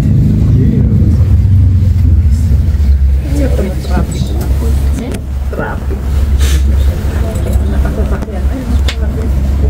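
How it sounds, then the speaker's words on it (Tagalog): Road traffic in Hakone, Japan: a steady, loud low rumble of passing cars and buses, with engine noise rising and falling under nearby voices talking. "Traffic."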